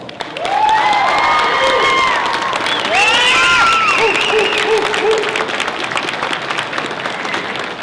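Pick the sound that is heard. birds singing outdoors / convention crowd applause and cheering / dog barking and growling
convention crowd applause and cheering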